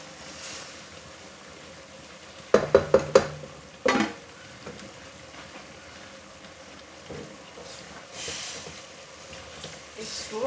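A home-cooked, lightly spiced dish is stirred in a frying pan: a quick burst of sharp utensil clanks against the pan, one more knock, then a soft, steady sizzle and rustle.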